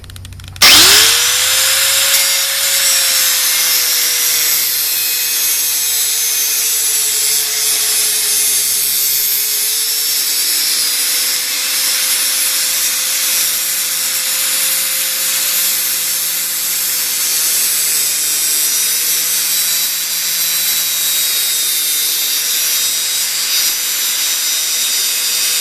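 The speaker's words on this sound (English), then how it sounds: "I got to take a little piece off of here with the angle grinder" Angle grinder cutting a metal tube on a lawnmower handle: it spins up sharply, then holds a loud, steady high-pitched whine with bright grinding hiss for a long, continuous cut, close and alone.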